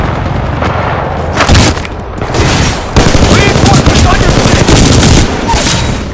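Rapid automatic turret gunfire in Titanfall 2, dense loud bursts of shots rattling through most of the clip alongside booming impacts, with speech mixed in.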